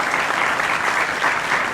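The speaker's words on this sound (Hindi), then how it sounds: "जोरदार तालियों से स्वागत कीजिए" A television studio audience gives a dense, steady burst of applause welcoming a guest, many hands clapping close and loud without a break for the short span.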